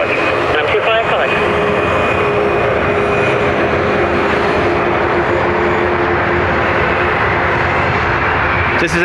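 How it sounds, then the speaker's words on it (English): An ATR turboprop airliner at Dublin Airport gives off a loud, steady propeller and engine roar with a constant tonal whine. Voices talk over it, and there is radio chatter. "This is our ATR that had the rejected takeoff"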